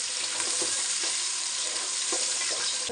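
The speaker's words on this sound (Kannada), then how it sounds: "ಈರುಳ್ಳಿ ಫ್ರೈ ಆಗ್ತೈತೆ." Finely chopped onions frying in a pan as the base for chicken biryani: dense, steady hiss of sizzling oil, close and fairly loud, with a few faint stirring knocks and no talking.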